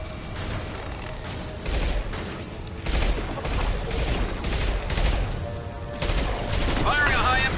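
High-impact gunshots ring out during a firefight in Mass Effect 2, loud rapid bursts of gunfire coming in waves among explosive thumps, with a short electronic warble near the end.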